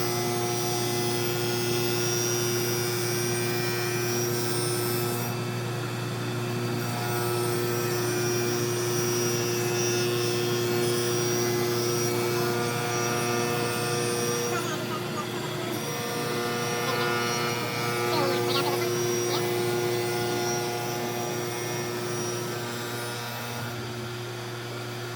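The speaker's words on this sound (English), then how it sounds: "the automatic conveyor will continue to grind it" A grinding machine running on its automatic conveyor gives a loud, steady mechanical hum with sustained tonal whine, continuous for the whole stretch with slight shifts in pitch and no talking.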